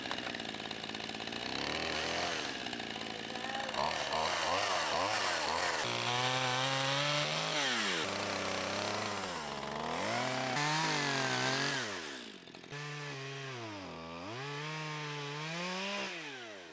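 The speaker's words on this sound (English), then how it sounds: "cut it down to the ground as low as possible with a chainsaw" A loud chainsaw runs close by cutting a tree stump down to the ground, its pitch rising and falling as it bogs into wood and revs back up, continuous for the whole stretch.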